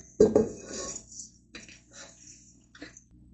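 A bowl for a stand mixer set down on a kitchen counter, one sharp clunk with a short clatter, followed by quieter scrapes and a faint clink.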